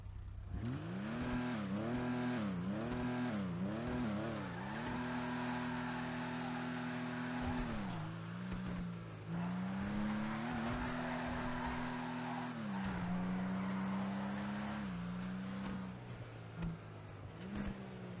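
A Vulcar Nebula Turbo sports car engine in GTA Online revs repeatedly up and down, then holds high, droning pitches through gear changes, loud and close, with no talking.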